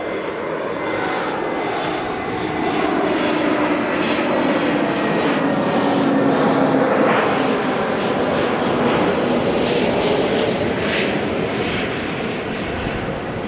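Airbus A320neo jet arriving at Auckland Airport, its engines producing a loud, steady roar with a broad rushing whine that swells slightly and holds throughout.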